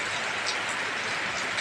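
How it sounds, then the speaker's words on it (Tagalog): Heavy rain pours down during a typhoon, a steady, dense hiss of falling water that fills the scene evenly, with no voices. "lakas ng ulan oh."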